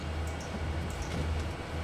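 A diesel locomotive idles steadily in a rail simulator, an EMD SD40-2 giving a low, constant engine rumble that holds even throughout with no talking.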